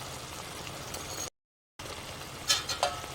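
A spoon stirring bottle gourd with coriander and cumin powder in a pan, a steady close scraping and soft sizzle with a brief silence, then two light metallic clinks near the end.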